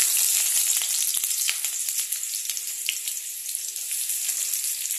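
Chopped onion sizzling in hot oil in a pre-heated kadai, a steady, bright, crackling fry that holds close and loud throughout with a few small pops and no voices.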